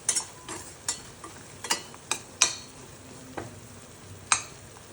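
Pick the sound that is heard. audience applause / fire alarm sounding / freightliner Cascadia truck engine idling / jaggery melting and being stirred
jaggery melting and being stirred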